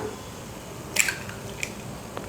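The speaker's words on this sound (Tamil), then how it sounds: "இப்போ நம்ம முட்டை உடைச்சு ஊத்திக்கலாம்." An egg cracks over a dosa spread with spicy chutney: a brief close crack and a wet squish, followed by a couple of faint drips.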